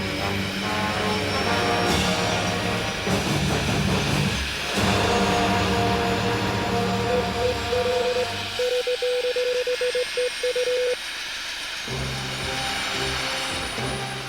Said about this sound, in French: contact et mise en marche du rotor principal.